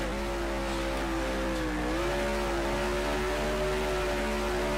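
Simulated engine of a 1966 Eagle Formula 1 car with a Westlake or 2-litre Cosworth unit in Grand Prix Legends, a steady sustained drone whose pitch sags and recovers slightly, loud and continuous with no talk.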